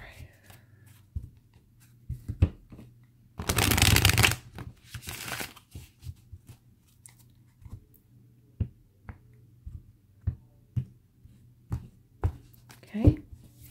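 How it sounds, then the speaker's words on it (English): Tarot cards are shuffled in one loud dense burst lasting about a second, followed by scattered sharp taps and clicks of cards being handled and laid down in a quiet room. "shuffling may be loud."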